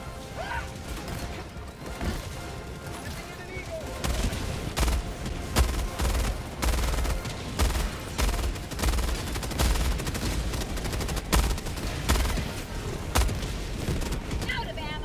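In Helldivers 2, a 500 kg bomb strike and sustained gunfire make dense, continuous rattling bursts with heavy booming impacts, loud and close, under a constant roar of battle.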